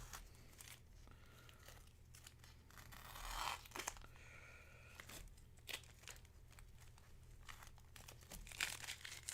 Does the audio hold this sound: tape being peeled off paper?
yes